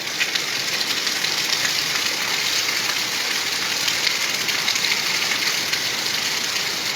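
Monsoon rain falls on a Malwa village, its first of the season, making a steady broadband wash of drops that stays constant and fairly loud from start to finish, without talk.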